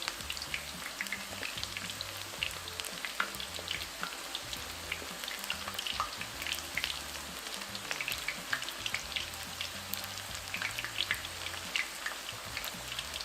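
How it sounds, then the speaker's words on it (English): Ground beef and potato rolled taquitos fry in hot oil, giving a steady, close crackling sizzle with dense popping bubbles and no talking. "We're gonna continue to cook our taquitos until they're nice and crispy."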